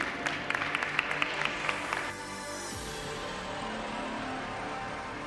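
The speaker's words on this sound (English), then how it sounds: "Let's get a big round of applause for our 5th seeded team" Audience applause at a VEX U robotics qualifier in West Virginia, a short burst of scattered clapping that fades after about two seconds into hall ambience.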